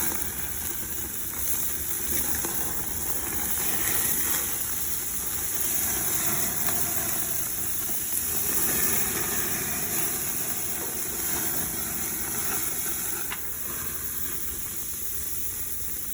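Green chile burgers cook covered in a pan, giving off a steady, fairly quiet sizzle and hiss that runs evenly throughout with no talking.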